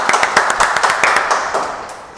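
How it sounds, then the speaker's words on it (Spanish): A small group claps in a podcast studio, close and loud, with distinct rapid claps that thin out and fade within about two seconds. "Un aplauso por esto"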